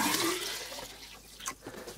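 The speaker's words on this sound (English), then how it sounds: "Let's start by filling this with some distilled water." Distilled water pours into an HHO generator container, a splashing, gurgling stream that starts full and gradually thins and trickles out over a couple of seconds.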